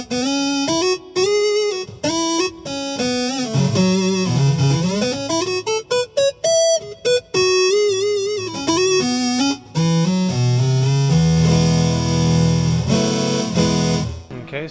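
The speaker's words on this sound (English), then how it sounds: "This is going to produce a reedy and very hollow sound" Square-wave tone from a BOSS SY-300 guitar synth, reedy and hollow, playing a loud continuous melodic line of sustained, gliding notes with brief gaps, alone without talk.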